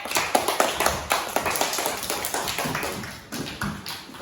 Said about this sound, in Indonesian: Berikan tepuk tangan untuk kelompok anggrek